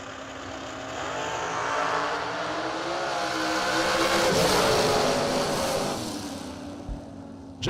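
A drag racing car engine revs hard at the launch of a run at the New Year Nationals, a loud, sustained roar that climbs in pitch, peaks, then tapers off before a short thump at the end.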